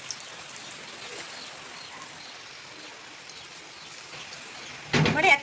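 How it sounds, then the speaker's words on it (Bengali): Rain falls steadily during a windy storm, a soft, even hiss of drops broken near the end by a sudden loud, close burst of noise. "আর এদিকে এখনো বৃষ্টি চলছে দেখো"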